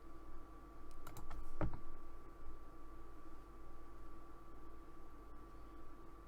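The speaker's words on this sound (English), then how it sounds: "then I'm going to type properties." Computer keyboard typing, a short quick burst of several clicks early on, then a few faint isolated taps over a steady low hum.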